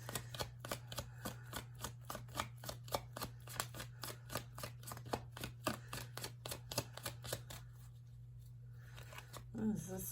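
Tarot cards are shuffled by hand in a rapid, even run of crisp riffling snaps, close and clear for about eight seconds before the shuffling stops and a low hum remains.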